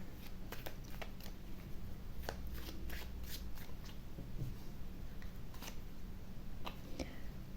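Tarot cards are shuffled by hand up close, a steady run of soft riffling and flicking card sounds with a few sharper snaps, quiet and continuous with no talk.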